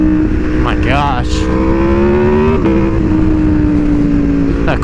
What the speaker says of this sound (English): That quick shifter sounds crazy.